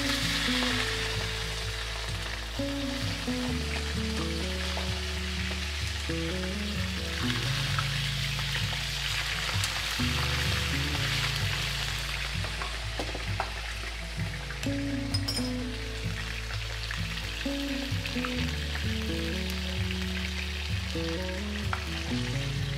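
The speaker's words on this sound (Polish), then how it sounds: "tutaj sobie smażymy kawałek po kawałku i układamy jedno na drugie" Lamb ribs sizzle and spit in a hot pan while pieces are fried one by one, a continuous close frying crackle with low shifting rumbles of handling and no talking.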